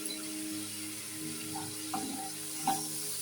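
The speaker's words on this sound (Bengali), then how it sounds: "দিয়ে মশলাটা একটু কষিয়ে নিই।" Spice masala of turmeric, cumin powder, red chili powder and coriander powder fries in a pan for a gram-flour curry. A steady close sizzle runs throughout, with a few soft stirring scrapes and no talk.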